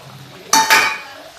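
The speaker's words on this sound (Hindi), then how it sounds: "डालने के बाद इसको हम चला देते हैं" Soybean kadhi with pakoras is stirred in a pot, producing two quick bright scraping clinks of a spoon against the metal, close and distinct in an otherwise quiet moment.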